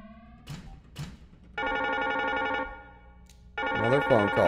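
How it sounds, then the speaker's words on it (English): A phone ringtone sounds in two bursts of bright repeating tones with a short gap between them, and faint voices are heard just before the ringing starts. "Another phone call."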